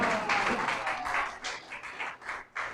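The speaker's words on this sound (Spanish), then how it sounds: "Aplauda a Dios con todo el corazón" A church congregation claps during a sermon, a burst of applause that breaks into uneven, separate pulses of clapping, moderately close and fading in and out over a few seconds.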